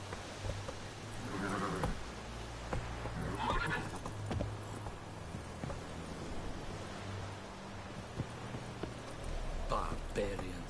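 Roach, Geralt's horse in The Witcher, neighs and whinnies in a few loud bursts between steady clip-clopping hooves, with a voice speaking over the game sounds.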